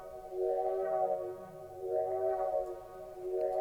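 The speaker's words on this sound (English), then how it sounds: "Let's mess with the chorus." A sustained synth chord run through a chorus effect in an audio plugin, its tone swelling and shimmering in slow waves, soft and alone.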